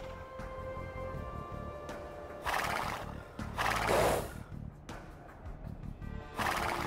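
Horses in the Age of Empires 2 strategy game: several loud whinnies and neighs rise over clip-clopping hooves, with game tones and sound effects playing throughout.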